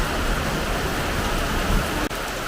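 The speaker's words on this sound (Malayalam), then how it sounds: "മഴയെന്ന് പറഞ്ഞാൽ നല്ല അടിപൊളി മഴ." Heavy monsoon rain pours down in a steady, dense roar close by, unbroken apart from one brief dip near the end.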